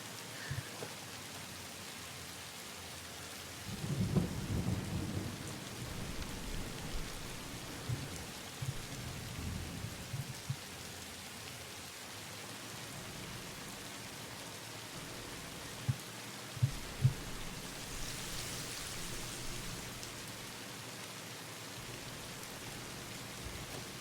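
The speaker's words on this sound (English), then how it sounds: "It's thunder going on right now." Thunderstorm heard during Satisfactory co-op play: steady rain hiss with low rolling thunder rumbles, a strong one early on and fainter ones later, plus a few sharp clicks, no speech.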